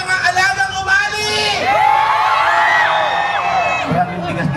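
Concert crowd at the Sigaw ng Malayang Cabanatuan 2024 show on the Nueva Ecija concert grounds, shouting and cheering loudly as one sustained roar of many voices, with whoops rising above the crowd noise throughout.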